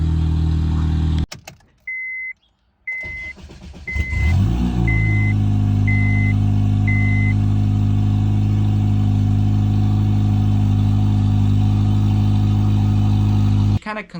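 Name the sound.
car engine cranking and starting with new starter on E85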